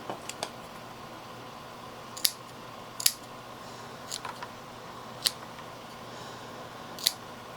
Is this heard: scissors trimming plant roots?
yes